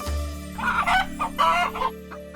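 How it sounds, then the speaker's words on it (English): A frightened farm chicken lets out agitated clucks in short, rhythmic bursts over a steady background hum, fairly close and moderately loud, with no talking. "It's just one of the chickens. They usually do that when they get scared or upset."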